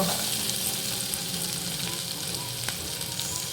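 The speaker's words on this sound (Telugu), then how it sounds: "ఆనియన్స్ వేగాయి." Chopped onions fry in hot oil in a pan for a prawn curry with tamarind leaves, giving a dense, even sizzle that stays loud and constant from start to finish.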